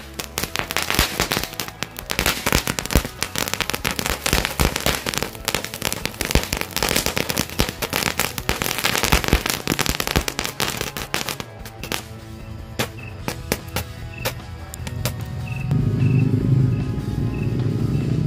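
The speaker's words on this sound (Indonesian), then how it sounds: "Mercon green lighting berhasil menyala bosku." A rapid, crackling barrage of small green-lighting firecracker bursts fills most of the clip, then thins to scattered pops and hissing sparks.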